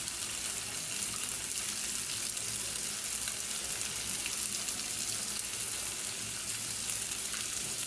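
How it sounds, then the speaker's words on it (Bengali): Fish and thick-cut whole onions fry in hot oil, giving a steady, loud, even hiss and crackle that holds without a break and with no voices. "আমার মাছগুলো প্রায় ভাজা শেষ। এখন কিছু আস্ত পেঁয়াজ দিয়ে দিব।"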